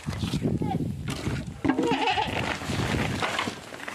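A goat that has just given birth lets out a short, wavering bleat, close by, in the middle of ongoing human talk.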